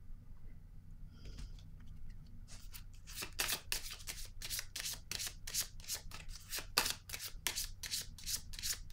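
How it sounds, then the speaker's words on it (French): Tarot cards handled at a reading, shuffled with a run of quick crisp riffling flicks that repeat steadily for several seconds, close and fairly quiet. "Je vais déposer une carte ici"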